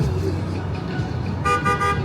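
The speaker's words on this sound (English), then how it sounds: "Sir, they weren't honking at you to go." Several car horns honk in short bursts on the Las Vegas Strip, loud and close over steady street traffic noise.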